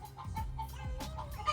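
Chickens cluck close by in a garden, a few short, irregular clucks and calls overlapping one another.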